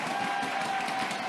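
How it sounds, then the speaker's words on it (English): A crowd at the 2022 World Pickleball Championship men's singles gold match in Bali, Indonesia, applauding and cheering in a dense, steady wash of clapping that fills the whole short moment without gaps. "This is a very exciting, energetic crowd over here."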